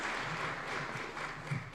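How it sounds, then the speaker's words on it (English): Brief burst of welcoming applause from an audience at a nuclear energy conference in Nairobi, a steady dense wash of clapping with no speech. "Let's welcome him with a warm clap."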